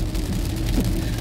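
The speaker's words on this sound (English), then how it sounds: "It's raining hard as fuck." Heavy rain drums on a car while it is being driven. The sound is a dense, continuous low roar and hiss, loud and steady throughout, with road rumble underneath.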